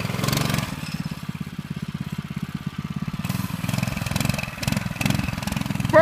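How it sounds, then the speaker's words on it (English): A small engine on an old two-seater go-kart runs steadily with a fast, even pulsing throb during a burnout, fairly close and alone with no talk, and a brief squeal comes at the very end. "He just did a burnout."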